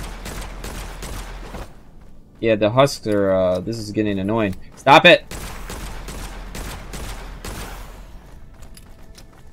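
Gunfire rattles in bursts of rapid, sharp shots in a first-person video game shooter, with someone talking over and between the volleys.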